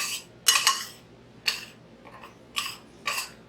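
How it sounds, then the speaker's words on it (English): Dry cornmeal, salt, baking powder and flour being mixed in a bowl with a utensil, giving a handful of separate scraping, clinking strokes spaced by short pauses, fairly close and moderately loud. "Mix the baking powder up in there pretty good."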